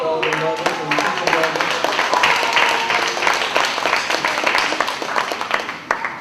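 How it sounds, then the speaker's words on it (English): An audience claps steadily at a poetry performance for Mother's Day, a dense rolling round of applause that swells, holds and then thins toward the end, with a voice heard over the opening. "I like to give a big hand clap for all the mothers"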